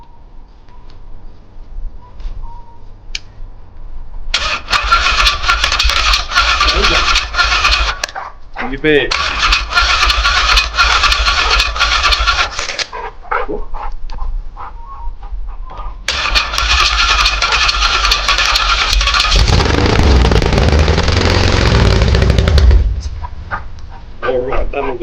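A 1968 Holden 253 V8 that has sat unused for ten years cranks, then fires into loud, rough running bursts that cut out and restart several times. A longer deep revving stretch follows, with people talking briefly nearby.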